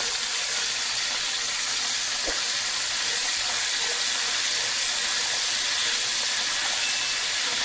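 Ginger garlic paste frying in oil for a degi chicken korma, a continuous hissing sizzle with a brief stirring knock, steady and fairly close, no speech.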